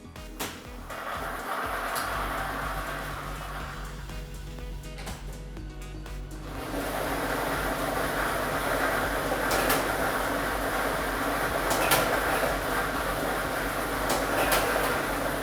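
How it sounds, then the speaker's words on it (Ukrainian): A lottery drawing machine (unit B with ball set No. 1) runs during a televised Ukrainian state lottery draw for Loto Maksyma. It gives off a steady mechanical whir with faint rattling that grows louder and fuller about halfway through, and no one speaks. "І ми вмикаємо лототрон."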